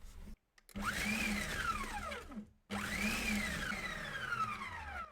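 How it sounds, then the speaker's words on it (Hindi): An electric chopper whirs through coconut in two loud, close bursts with a short silent gap between them. Each run starts with a rising whine that then falls as the blades spin down under load. "सबसे पहले मैं नारियल को चॉप करूंगी।"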